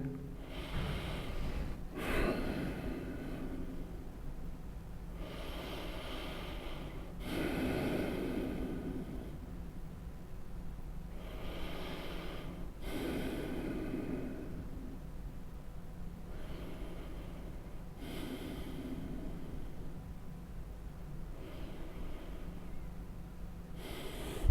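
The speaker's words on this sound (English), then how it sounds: "Deep breathing." Slow, deep breaths during yoga stretching in a forward-fold and spinal decompression class, drawn in and released in long repeated cycles about every few seconds, soft and close, with no talking.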